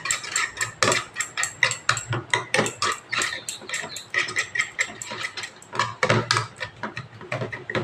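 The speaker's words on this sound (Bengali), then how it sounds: "ডিমটা ভালো করে সব একসঙ্গে সবজি দিয়ে গুলে নেব।" A utensil beats egg together with chopped tomato, green chilli, coriander and onion in a bowl, making a fast, steady series of close clinking, scraping strokes.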